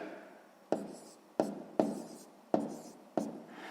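A pen writes numbers by hand on paper, giving soft scratchy strokes with about five distinct taps as it touches down, close and quiet.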